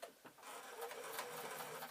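A sewing machine stitches circles of fabric joined in pairs for an Easter shoulder bag, giving a quiet, steady mechanical whir for about two seconds with no voices.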